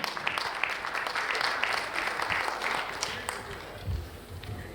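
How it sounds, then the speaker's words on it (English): A conference audience applauds a speaker with loud, full clapping and some voices mixed in, tapering off toward the end. "Huge round of applause for Murugavel Janaki Raman."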